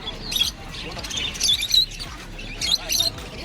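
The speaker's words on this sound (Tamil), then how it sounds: "இதை பாருங்கள் ஆப்ரிக்கன் லவ் பேர்டு" Several African lovebirds chirp in quick high, scratchy bursts at a market in Pallavaram, some near and some farther off, with background noise and some voices.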